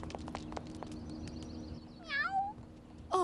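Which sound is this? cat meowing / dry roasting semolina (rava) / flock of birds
cat meowing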